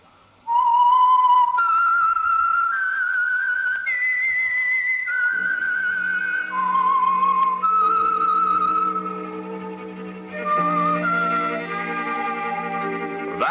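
A clear whistled radio-show theme melody plays, sliding between sustained notes, joined midway by low instrumental accompaniment that swells toward the end.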